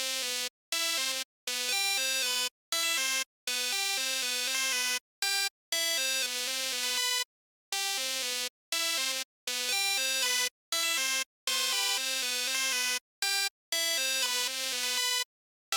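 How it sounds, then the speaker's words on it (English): A bright, slightly wobbly detuned synth pluck plays a choppy melody of short notes with brief silent gaps between phrases. "I'm going to utilize a detuned synth pluck that sounds like this."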